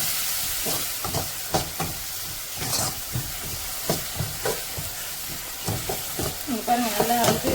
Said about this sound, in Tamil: இப்போ ஒரு டைம் கிளறி விட்டு நல்லா வதக்கிக்கலாம்.